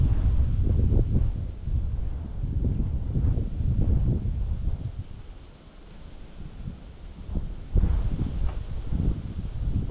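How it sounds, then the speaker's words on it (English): Outdoor wind buffeting a microphone while crappie fishing in Florida, a steady low rumbling roar with gusty surges and lulls that runs the whole time, loud and close with no voices. "the wind was a little aggravating fishing in"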